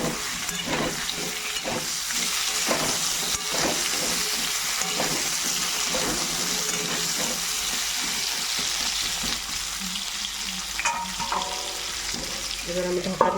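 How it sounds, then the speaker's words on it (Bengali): New potatoes frying in oil left over from frying boal fish, a steady dense sizzle close by with intermittent scraping stirs, continuous throughout without talk. "এবার আমি এই ভাজা তেলের মধ্যে, এই তেলের মধ্যে আমি আলুগুলো ভাজা করে নেব"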